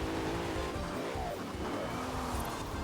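A Bentley Bentayga engine in Forza Horizon 4 drones loudly and steadily, its pitch wavering as the gears shift, with no talking over it.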